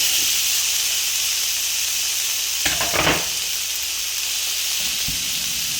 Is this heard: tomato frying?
yes